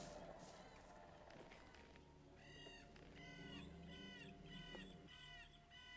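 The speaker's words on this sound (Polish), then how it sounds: "jakie odgłosy, jakieś kruki, jakieś krzyki" Ravens cawing in the game Gothic: a run of harsh, evenly spaced caws repeats in the second half over a low ambient bed, moderately loud.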